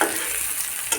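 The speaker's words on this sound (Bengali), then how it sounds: "তো এখন বাদামি কালার হওয়ার জন্য আমাকে নাড়তে হবে" Chopped onions frying in hot oil while being stirred to brown them, a continuous close sizzle with a brief scrape of the spoon near the end, no voices.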